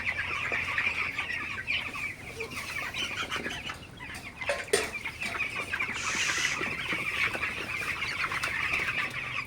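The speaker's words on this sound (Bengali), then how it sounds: "আপনারা দেখতে পাচ্ছেন আমার ব্রয়লার মুরগিগুলো" Sixteen-day-old broiler chickens clucking and chirping steadily throughout, a busy flock nearby over a constant background hum, with no talking.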